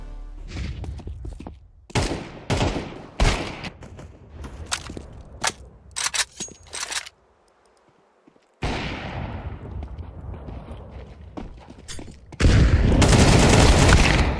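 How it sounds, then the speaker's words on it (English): Rapid gunfire bursts and a bright burst in a Counter-Strike style round, a flashbang grenade going off, with sharp shots through the first seven seconds, a brief lull, then steady noise and a loud sustained blast at the end. "I'm throwing the flashbang."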